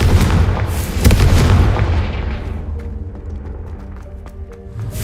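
Confringo fire spell explodes in the video game Hogwarts Legacy: a loud, close booming blast with heavy low rumble and crackling debris that decays over a few seconds.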